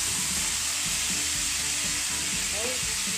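Tomatoes frying in a home pan while cooking ginisang corned beef, giving a steady close sizzle and hiss throughout with faint stirring knocks underneath.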